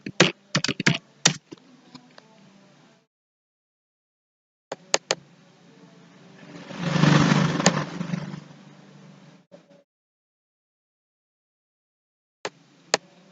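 Keys clacking on a computer keyboard as an IP address is typed in, in short bursts of quick clicks with a pause and a longer rattle of keystrokes in the middle, close and fairly loud with no talking.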